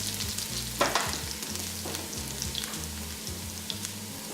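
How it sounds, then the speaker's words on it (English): Shiitake mushrooms are stir-fried in a hot pan, with a continuous close sizzle and irregular scraping stirs, some louder clatters now and then, and no voices. "Just kind of stir fry that for about a minute, 30 seconds to a minute."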